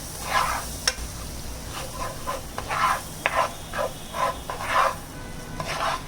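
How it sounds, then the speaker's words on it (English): Maida flour stirred in a pan while cooking as the base of a white bechamel sauce for baked vegetables, with repeated scraping strokes and a soft sizzle, close and fairly quiet with no talk. "let the maida cook. Okay? Mix it and keep on stirring it."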